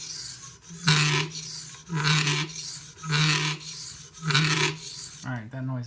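A knife is drawn across a sharpening stone on a Hapstone T1 clamp sharpener in about five steady, even rasping strokes with brief gaps between them. The scraping is loud and close, and there is no talk.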